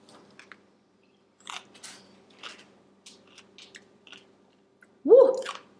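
Quiet, scattered crunchy chewing sounds, then one loud, close crunch as a refrigerator pickle is bitten into near the end.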